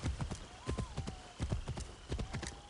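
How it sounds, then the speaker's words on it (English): Horse hooves clip-clop steadily at a riding pace in Assassin's Creed Shadows, a quick rhythmic patter that stays fairly quiet under a low hum, with no talking. "might as well get up back on the horse"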